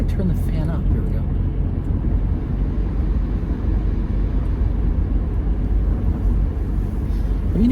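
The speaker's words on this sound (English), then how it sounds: "Have you noticed a difference in the road noise in this car?" Steady road noise inside a moving car with the cabin fan running: a continuous low rumble and broadband whoosh that holds at an even level throughout.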